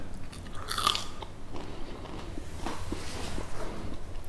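Crisp bites into freshly fried potato fries at a home lunch give a short crunchy crackle, then quieter chewing over a steady background hiss.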